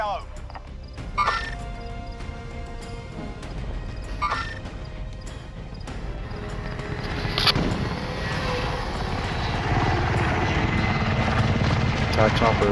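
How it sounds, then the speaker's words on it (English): An attack helicopter in Call of Duty: Modern Warfare gives off a steady rotor drone that grows louder over the whole stretch, mixed with gunfire, impacts and other battle noise, while people talk over it. "Attack chopper above him."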